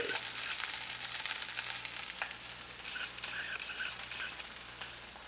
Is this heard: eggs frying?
yes